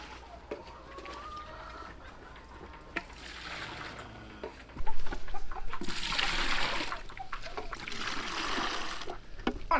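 Chicken clucks near a feeder, short intermittent calls heard close by against a background of scraping and splashing-like rustle that grows louder midway.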